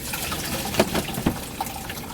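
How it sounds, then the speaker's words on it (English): Seawater poured out of a sailboat by hand while bailing with a bucket and sponge, splashing and trickling with a couple of brief louder splashes, close by and without talk. "How much water have we poured out so far?"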